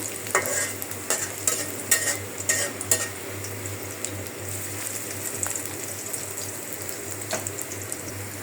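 Water lily curry with small shrimp and spices is stirred and sautéed in a pot, a steady sizzle with scraping stir strokes, louder in the first few seconds, with no talking.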